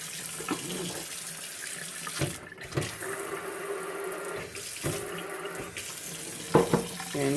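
Water runs from a newly installed kitchen faucet in a strong, steady stream, broken by a few brief interruptions and clunks, ending with a short knock.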